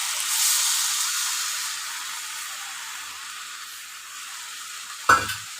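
Turmeric, salt and chili being sautéed in a pan for a traditional Bengali fish kalia give a steady, moderate hiss that fades slightly, ending with a brief louder sizzle and clatter as the spices go in near the end.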